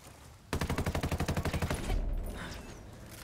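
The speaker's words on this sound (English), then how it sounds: "Oh crap, I'm taking fire." Close, rapid automatic gunfire from the video game Ghost Recon: Ghost War rattles off in a steady burst of about fifteen evenly spaced shots, then gives way to a rumbling echo and quieter game noise.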